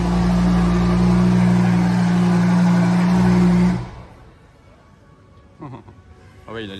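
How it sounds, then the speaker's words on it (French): A Lamborghini Huracan Novitec sports car with a Novitec exhaust idles loud and steady up close, then cuts off abruptly, leaving quiet background with a few faint distant sounds. "Huracan Novitec qui a démarré là-bas."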